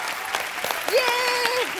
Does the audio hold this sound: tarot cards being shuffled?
no